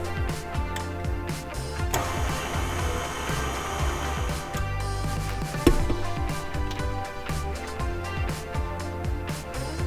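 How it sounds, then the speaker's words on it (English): A stand mixer fitted with a paddle attachment works focaccia dough of flour and olive oil, its motor whirring steadily while the dough slaps and thumps rhythmically, with one louder clunk partway through. "using our paddle attachment, we are going to mix it until a dough forms"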